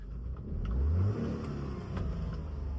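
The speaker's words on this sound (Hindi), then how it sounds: "हाँ रेस दीजिए।" A car engine revs during an uphill clutch-control driving lesson, a moderate rise in engine pitch and volume that swells briefly then settles to a steady hum, heard from inside the car.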